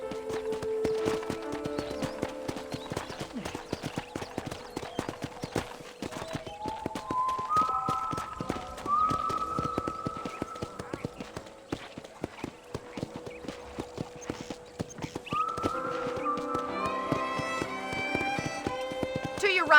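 Horse hooves clip-clop steadily in the Red Dead Redemption video game on a ranch, moderately loud, with game music tones and a voice talking over them throughout.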